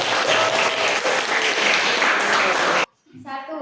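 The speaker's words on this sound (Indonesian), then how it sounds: "Tepuk tangan untuk kelompok 1." A crowd applauds loudly and steadily for about three seconds, then the clapping stops abruptly and someone begins to speak.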